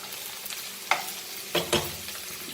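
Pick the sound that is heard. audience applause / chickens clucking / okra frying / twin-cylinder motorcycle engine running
okra frying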